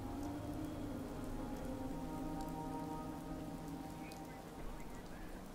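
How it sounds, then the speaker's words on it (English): Steady rain falls in the video game Just Cause 3, a dense, even patter that continues without a break and with no voices over it. "Hope this rain lets up soon."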